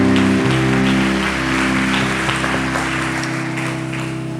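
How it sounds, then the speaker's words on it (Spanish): A church congregation gives God a loud, sustained round of applause, a dense wash of clapping over steady sustained organ or keyboard chords. "me da un fuerte aplauso a Dios mientras usted se sienta"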